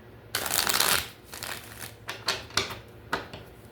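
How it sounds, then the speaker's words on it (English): Tarot cards being shuffled by hand: a long riffling burst of papery flutter, then several short separate snaps and slaps of the deck, close and alone with no talk. "So let's shuffle."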